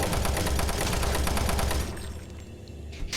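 Rapid bursts of gunfire from Doom 3 pound loudly in a fast, regular rhythm for nearly two seconds, then stop and leave a fading echo with a final faint shot.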